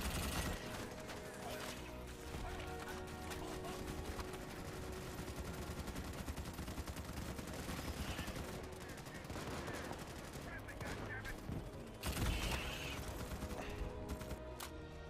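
Rapid automatic gunfire from a player's weapon in Starship Troopers Extermination on PS5 rattles continuously amid battle noise, with a heavier blast near the end and a voice talking faintly underneath.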